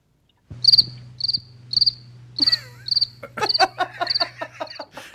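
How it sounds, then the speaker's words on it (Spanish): A cricket chirps in regular short bursts, close and clear, about eight trills in a row over a low steady hum, with no talk. "Ese es un grillo."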